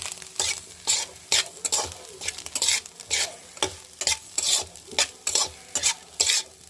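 A vegetable fry sizzles in a pan while a spoon stirs it in quick, regular scraping strokes, roughly one or two every second, close by and clear with no voices.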